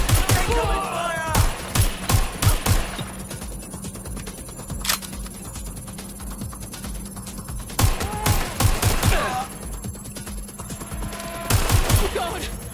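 Gunfire in Watch Dogs Legion on PS5 rips out as loud, rapid automatic bursts in clusters at the start, the middle and the end, with quieter stretches between them and faint voices talking in the background.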